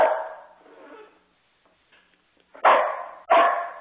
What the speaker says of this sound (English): Sorry, I have a dog.